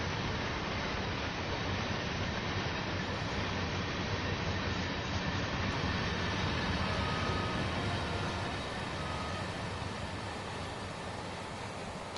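An S-Bahn Vorarlberg train in Train Sim World 4 rolls past in a long, loud, steady roar of wheels on rails that holds nearly unchanged for the whole stretch, with no voices.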